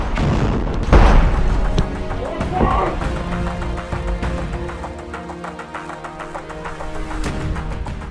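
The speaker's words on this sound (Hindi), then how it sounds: "घात लगाकर रॉकेट से हमला करता है, जिसमें इजराइल का वो टैंक आग के गोले में तब्दील हो जाता है" Rocket ambush strikes an Israeli IDF tank in Khan Yunis, Gaza: one heavy, close boom near the start, followed by a long rumbling, crackling tail of debris and scattered pops, with faint voices mixed in.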